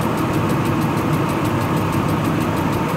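A truck's junkyard replacement engine idles loud and close, a dense steady rumble with a fast, even ticking running through it.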